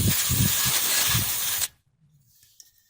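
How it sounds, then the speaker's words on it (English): Contact cleaning spray hisses in one sustained close burst onto the mechanism of a Funai-made VCR that eats tapes, then stops abruptly, leaving near silence with faint handling. "Here's the contact cleaning spray."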